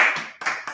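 Students clapping in a classroom, a short burst of several quick handclaps, close and fairly loud, with a voice faintly mixed in.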